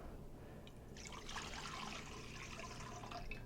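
Water, measured out at fifteen ounces, pours into a stand mixer bowl for pizza dough, a soft, steady splashing trickle heard close but quiet, without talk.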